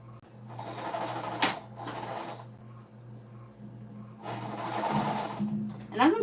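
A sewing machine bastes a row on a stuffed puff quilt pillowcase with a steady low hum that runs throughout, while someone talks over it in two stretches.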